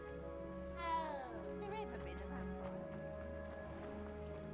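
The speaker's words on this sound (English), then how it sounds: "That was the most terrifying meow I've ever heard." In Hogwarts Legacy, a cat gives a single rising-then-falling meow that sounds oddly human. It is fairly faint over a steady game hum and other soft background sounds.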